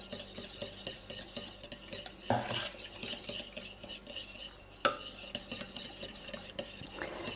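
A spoon scrapes and clinks softly against a bowl while stirring gelatine into strawberry purée, with a couple of sharper taps standing out.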